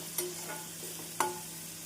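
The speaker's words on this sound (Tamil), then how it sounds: "நாம் உப்பு சேர்த்து வெங்காயம் நன்றாக வதங்கவும் நறுக்கிய கத்திரிக்காயை சேர்த்து விடலாம்." Soft sizzle of chopped onion and brinjal frying in a pan, with two sharp scrapes of stirring over a quiet, steady hiss.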